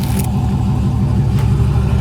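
A 2016 Ford F-150 pickup truck's engine rumbles in a steady, loud, low idle-to-rev drone that stays close and continuous throughout, with no talking over it.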